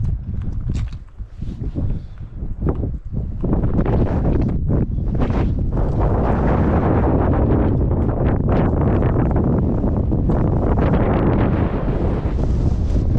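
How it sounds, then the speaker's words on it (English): Strong wind buffeting the microphone while hiking the Pemi Loop in spring, a loud continuous roaring rumble with gusty surges, near and steady for most of the stretch. "Breezy."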